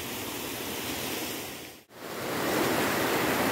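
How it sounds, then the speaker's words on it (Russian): Several waterfalls beside a mountain trail at Berendeevo Tsarstvo near Lazarevskoye in December, a loud broad rushing roar of falling water close by, steady throughout apart from one brief dropout midway. "здесь прям вот несколько водопадов"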